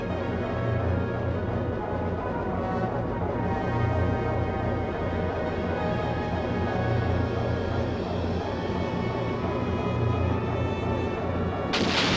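Heavy, continuous booming barrage of cannon fire in the video game Skies of Arcadia, with rumbling low end, steady and loud throughout, with faint voices mixed in.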